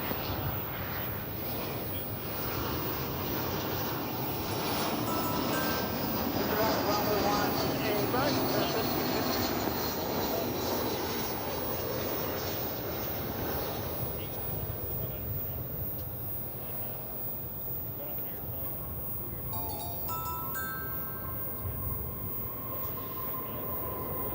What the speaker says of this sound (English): here's that flight from Oklahoma City we spoke so much about just moments ago